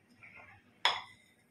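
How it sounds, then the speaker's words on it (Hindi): Paneer curry being moved into a serving utensil in a home kitchen, heard as a single sharp metallic clink of a spoon or pan against the vessel after some quieter handling noises. "अब इसे एक बर्तन में निकाल लेते हैं पनीर को।"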